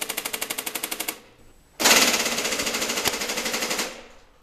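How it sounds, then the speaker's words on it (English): Vintage Nerf Wildfire, a fully automatic 20-dart turret blaster, fires a rapid mechanical burst of about a dozen evenly spaced thumps, pauses, then a louder, denser sustained volley of darts ripping out close to the microphone. "Nerf Wildfire, firing test in 3,"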